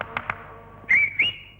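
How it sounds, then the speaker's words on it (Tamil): A person whistles two short, bright notes in quick succession, the second sliding upward, preceded by a few faint taps, close and clear with no talking. "இப்ப நீ எதுக்குடா விசில் அடிக்க?"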